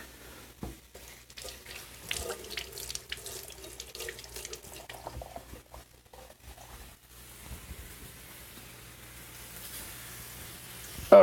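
Water runs faintly into a kitchen sink while cooking steak moutarde, a soft steady stream broken by light clatter near the start.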